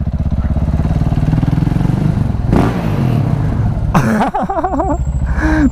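Loud, close Yamaha R1 motorcycle engine running with a rough, pulsing idle and throaty revs, a brief rising rev and a clattering shift partway through, continuous throughout.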